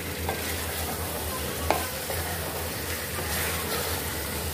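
Four kilos of chicken sizzles and is stirred in a karahi for white chicken karahi, a dense continuous frying hiss with occasional spoon scrapes and a low steady hum beneath, close and fairly loud.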